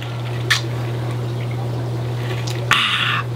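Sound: pouring ice cold water into a cup

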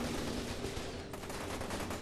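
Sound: gunshots in F.E.A.R. 2: Project Origin video game

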